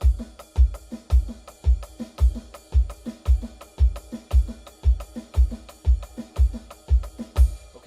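Drum kit playing a 6/8 exercise, bass drum and snare alternating in a steady, even rhythm, close and clear, about fifteen strokes with deep kicks and crisp snare hits, no talking.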